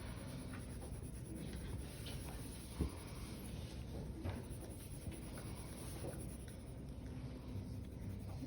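Graphite pencil shading back and forth across drawing paper, a steady close scratchy rubbing texture that runs continuously without pause and without any talk over it.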